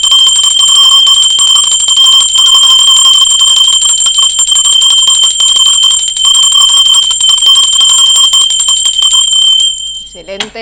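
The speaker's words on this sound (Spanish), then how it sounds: "va campana" A bell rings loudly and steadily, close to the listener, as a bright, continuous metallic tone that holds for about ten seconds and then cuts off, followed by a brief trailing sound.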